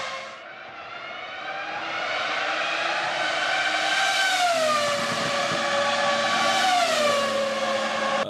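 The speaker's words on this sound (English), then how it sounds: "let me just show you guys like a video quickly of what Formula One used to sound like" An old Formula One racing car's engine screams at high revs, a piercing harmonic wail that climbs and drops through gear changes over several seconds, loud and continuous with no voices.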